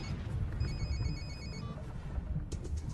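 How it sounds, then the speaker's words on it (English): A telephone rings with a bright electronic warble in repeated pulses over a dense, noisy background of rumble and hiss, in a film scene set in 1994 Moscow. "Pick up the phone."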